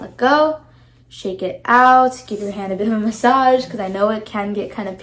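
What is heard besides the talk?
No everyday noise stands out behind the speech.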